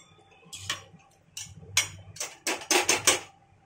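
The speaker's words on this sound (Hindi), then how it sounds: "फिर हम इसको फिर से हिला देंगे" A metal spoon scrapes and clinks against a pressure cooker of vegetable masala pulao rice in uneven bursts, a stirring rhythm of clattering taps close by.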